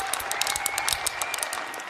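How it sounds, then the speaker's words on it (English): An audience at a keynote event applauds, dense steady clapping from many hands filling the room throughout, with no talking over it. "Round of applause if you're a clicky pen"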